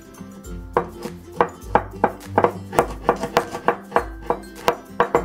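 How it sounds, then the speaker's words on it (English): Ginger and garlic are minced together with a knife on a cutting board, giving rapid, uneven close chops with sharp clicks on the board and no talk. "let's mince the ginger and garlic"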